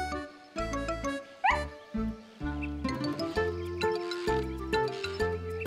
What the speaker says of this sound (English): She was wagging her tail and barking happily.